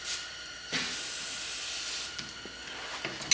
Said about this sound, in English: Just spray that guy off a little bit,